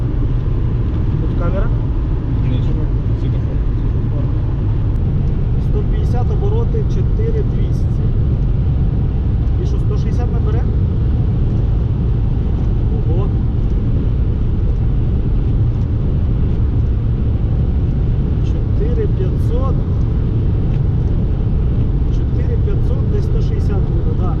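Road and wheel arch noise inside a tuned Daewoo Lanos driving at highway speed, a steady loud low rumble and wind roar throughout, with people talking over it.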